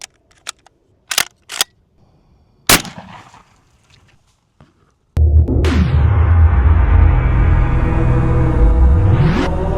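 A 12 gauge shotgun fires a slug into a row of water jugs. A few sharp clicks and one crisp crack are followed by a loud, sustained rumbling blast with a sweeping, droning tone.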